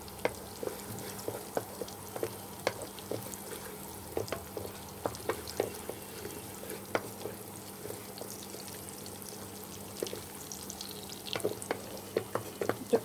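Turmeric powder is sautéed in a pan for khuder bhaat, a soft, low frying hiss punctuated by repeated small clicks and taps of stirring, quiet and close.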